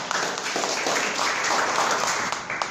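An audience claps steadily through a presentation, a dense, even wash of applause from many hands with no break, loud and close, with a faint murmur of voices underneath.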